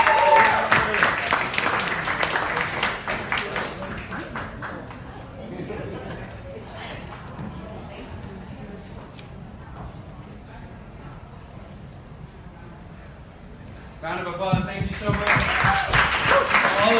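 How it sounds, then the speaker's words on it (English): Audience applause for a teacher at an education advocacy benefit: loud clapping at the start fades to a quieter murmur of the crowd, then a second strong burst of clapping near the end, with voices heard at times. "So a huge round of applause for Ms."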